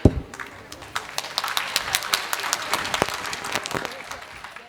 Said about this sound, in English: everyone to clap for the guest